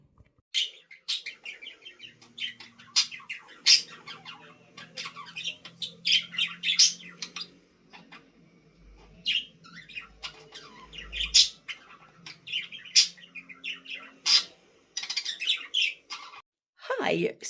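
Pet budgies chirp and squawk in a quiet room, with bursts of sharp calls and twittering throughout, some close and loud, mixed with soft rustling and brief low thumps.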